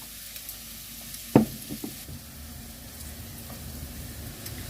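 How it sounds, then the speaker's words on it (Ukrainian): Steady sizzling of zucchini frying in hot oil, a continuous crackling hiss with a sharp clatter near the start and a few smaller knocks after. "Смажити будемо невеликими партіями."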